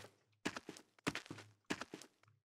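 Footsteps from a single shoe in a Wwise game audio demo, with no surface material: three clean, close steps spaced evenly, each a soft heel thud followed by a scuff, against a silent background.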